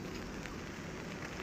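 Rain falling outdoors in Hong Kong makes a faint, even patter and hiss with no voices.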